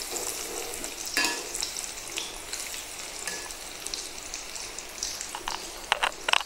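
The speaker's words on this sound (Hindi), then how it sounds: "मैं इसको ज़रा टर्न करूँगी। मैक्सिमम 4 से 5 मिनट लगेंगे, ये दोनों अच्छी तरह से फ्राई हो जाएगा।" Flamin Hot Cheetos-coated chicken tender pops deep fry in hot oil, a continuous bubbling crackle with a few sharp spoon taps and clinks against the pan along the way.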